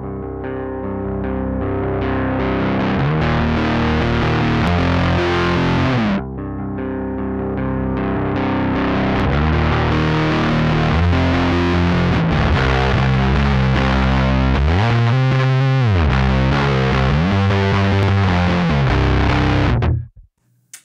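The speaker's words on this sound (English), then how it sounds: "That's such a cool, heavy grinding fuzz tone." A Source Audio fuzz pedal with automated drive gives a heavy, grinding distorted guitar tone, loud and continuous, its texture shifting as the drive changes, with a brief dip midway and an abrupt cutoff at the end.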